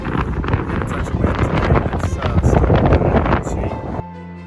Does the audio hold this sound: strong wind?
yes